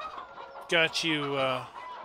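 Farm chickens in a video game cluck and squawk in two quick, close bursts of pitched calls, loud and clear over a faint background hum.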